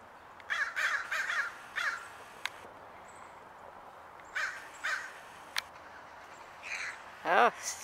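Crows caw outdoors where peanuts have been put down for them, giving several bursts of harsh calls at close to moderate distance, with another brief rising call near the end.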